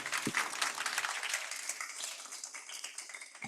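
Steady audience applause at a business sharing session, a dense wash of many hands clapping that carries through the whole stretch with no voices over it.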